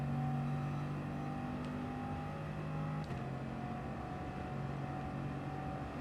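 A race car engine revs and accelerates in a racing video game, a loud steady drone whose pitch shifts twice, with no talk.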